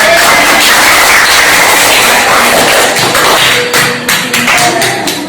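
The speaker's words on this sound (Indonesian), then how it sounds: "Kasih tepuk tangan anak-anak." Children in a classroom clap together loudly and continuously, with a dense patter of hand claps that turns into more distinct, uneven slaps toward the end.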